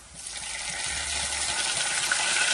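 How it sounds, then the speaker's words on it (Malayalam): Vinegar poured into a hot pan of fried garlic, a rising hissing sizzle with a watery splash underneath, building steadily over a couple of seconds. "വെളുത്തുള്ളി നന്നായി മൊരിഞ്ഞ ശേഷം നമുക്ക് കുറച്ച് വിനാഗിരി ഒഴിക്കാം"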